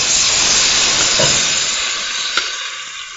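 Marinated horse meat with orange and lemon hits a hot pan and sizzles loudly, a dense hiss that starts strong and eases slightly, with one small clink near the end.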